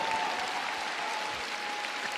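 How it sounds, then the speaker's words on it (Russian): Audience applause at an ice show competition, a steady even wash of clapping from a large crowd, sustained without pauses. "Ваши аплодисменты."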